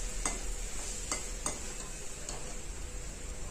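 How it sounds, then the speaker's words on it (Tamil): Vegetable fried rice with peas is stirred in a pan, with a few spaced spatula scrapes and clicks over a low, steady sizzle and no voices. "அப்பப்போ எடுத்து கிண்டிக்கிட்டே இருங்க"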